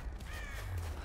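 A single bird call in the Rise of the Tomb Raider video game, a short crow-like caw sounding faintly over a steady game ambience.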